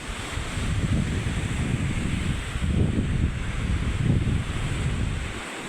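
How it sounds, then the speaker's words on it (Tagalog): Small sea waves wash steadily along a shore in the aftermath of Typhoon Uwan, a continuous surf roar with gentle swells rising and falling, mixed with heavy wind buffeting the microphone. "Pero maliliit na yung alon."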